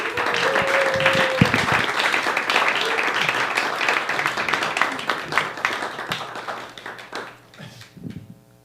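A comedy open mic crowd applauds as a comedian named Dante is brought on, sustained clapping with some cheering that fades toward the end while a voice begins to talk.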